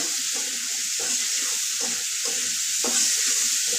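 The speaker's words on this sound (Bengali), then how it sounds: "একটু হলুদ আর একটু লবণ দিয়ে আলুটা আমি ভেজে নিচ্ছি" Potatoes fry loudly in oil with turmeric and salt, a bright continuous sizzle overlaid by regular rhythmic scraping strokes of a spatula stirring them in the pan, up close and without talk.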